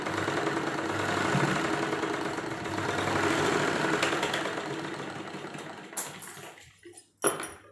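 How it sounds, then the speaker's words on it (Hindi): A sewing machine joins the sleeve seam of a simple size-38 kurti, its steady motor whir running for about six seconds before it stops, followed by a few faint cloth handling clicks and rustles. "फिर इसको इस तरह से फोल्ड करेंगे और इसके हम सिलाई यहाँ पे जोड़ देंगे आगे"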